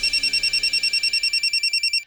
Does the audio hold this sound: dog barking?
no